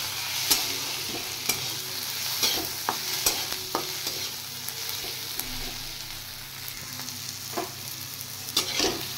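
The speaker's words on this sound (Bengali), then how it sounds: "এবার টমেটোটা দিয়ে আর একটু ফ্রাই করে নেব" Tomato and green chillies fry in a pan with a continuous bright sizzle, broken by repeated sharp stirring clicks and scrapes of a spoon against the pan.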